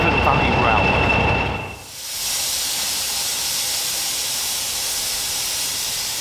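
Loud, steady hiss of steam escaping from steam-heated carriages on the Severn Valley Railway, a rush that begins after a short burst of noisier sound and then holds unbroken.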